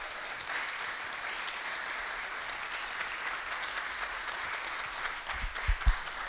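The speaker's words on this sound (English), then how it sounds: "Let's give a round of applause" Applause at an annual meeting runs as continuous, moderately loud clapping from a room of people, with a few thumps and bumps near the end.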